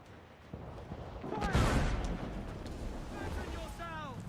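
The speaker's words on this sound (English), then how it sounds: "Careful of that mortar fire!" Mortar and cannon fire erupts during a naval battle in Assassin's Creed 4 Black Flag, a heavy boom swelling midway over wind and sea noise at sea, with crew voices shouting around it.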